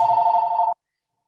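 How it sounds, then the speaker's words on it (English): A phone rings with a single steady electronic tone that lasts under a second and then cuts off abruptly into silence. "Excuse my phone ringing in the background."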